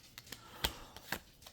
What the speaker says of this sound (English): I shuffled for clarification of the Five of Swords.